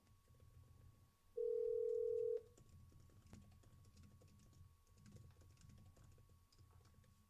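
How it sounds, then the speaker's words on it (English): A single steady phone tone sounds for about a second over the soft clatter of a computer keyboard being typed on nearby as a call goes through to voicemail; no voices are heard. "This one's just going straight to voicemail."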